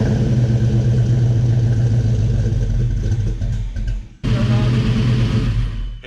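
A 306 HCI V8 in a Fox Body Mustang fires up for the first time and runs loud and rough with a steady clattering idle. It cuts out abruptly, then catches again and keeps running.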